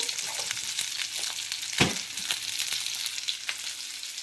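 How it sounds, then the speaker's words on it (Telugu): Onions fry in a pan with a pinch of sugar and salt until they brown. The sizzle hisses steadily up close, with a sharper clink or stir partway through, and no voices. "వీటిని బ్రౌన్ ఆనియన్స్ కింద వేయించుకోవాలి మనం"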